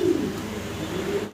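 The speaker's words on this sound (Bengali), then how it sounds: "এখানে যে দুইটা দেখতেছেন, দুইটাই হচ্ছে মাদি কবুতর" Two female pigeons, shown among large Giant Homer birds for sale, coo in a low, steady hum close by that continues for about a second before cutting off abruptly.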